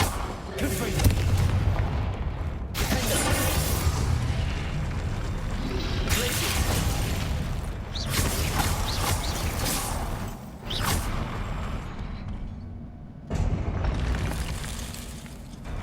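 Confringo spell blasts from the Hogwarts Legacy video game: a series of booming explosions with rumbling tails, several separated by brief quiet gaps.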